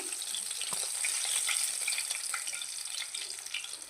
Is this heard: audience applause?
no